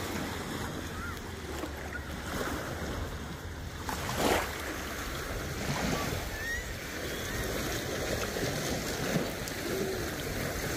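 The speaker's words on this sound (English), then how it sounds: "The waves are better here." Steady wash of Lake Huron waves against a beach shore with wind noise, a louder swell surging around the middle, continuous and fairly close.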